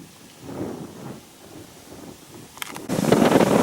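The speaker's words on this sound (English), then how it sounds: "Whoa, the wind just came up." Wind gusting outdoors on open prairie near mountains, a low rumbling buffet of wind against the microphone that swells, eases, then surges louder near the end.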